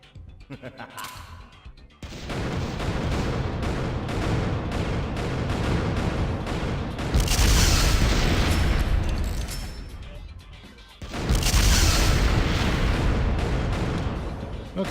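Gunshots and explosions from the Killer7 video game fill the scene as a sustained barrage of crashing blasts, swelling into two especially loud bursts, all close and dense with barely a pause.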